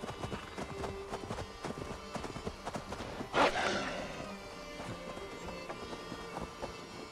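Horse hooves gallop in Assassin's Creed Valhalla, with rhythmic clip-clop steps running steadily under game ambience and a brief louder thump midway.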